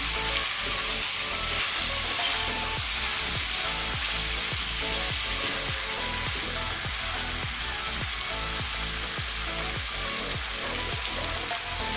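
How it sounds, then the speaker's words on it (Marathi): Diced red pumpkin sautés in a pan with salt, a constant bright sizzle running under a steady rhythm of spatula scrapes and stirs, close and loud with no talking. "आपण मिक्स करून घेऊ छान असं आपल्याला परतून घ्यायचं आहे"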